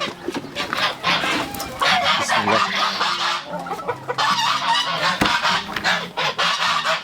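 Quails in a coop where eggs are being collected give loud, busy, overlapping calls and clucks, a dense near chorus that runs almost without pause, with no clear talk over it.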